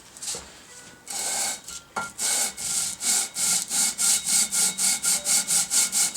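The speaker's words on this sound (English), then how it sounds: "I've got a piece of 100 grit sandpaper here, and what I'm hoping to do is" 100 grit sandpaper rubbed in quick, regular back-and-forth strokes across a metal lathe bed, a close, loud rhythmic scrubbing that speeds up into an even pulse after a few hesitant starts.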